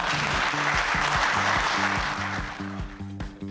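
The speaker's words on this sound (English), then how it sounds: "How about a big round of applause for our academic panel?" Brief burst of audience applause for an academic panel at a national security event, dense clapping that fades at the end, with a music bed underneath.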